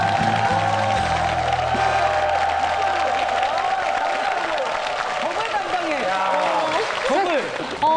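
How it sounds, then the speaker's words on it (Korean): Studio audience applause for a lawyer being introduced as a guest on a Korean variety talk show, a steady dense wash of clapping lasting throughout with no talk over it. "우리 박수."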